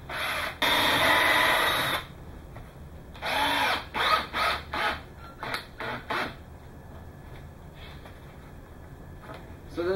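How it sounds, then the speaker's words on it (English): A power drill whirs in a long burst, then in several short bursts of varying length, close and loud, with quiet gaps between. "So we're gonna do the same drilling method that we did before."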